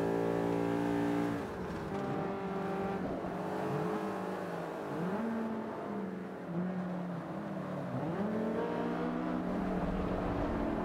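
Racing cars in Forza Motorsport 5 overtake on the inside line. One engine screams close and loud throughout, its pitch sweeping upward through a run of quick upshifts.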